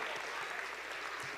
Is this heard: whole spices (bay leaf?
no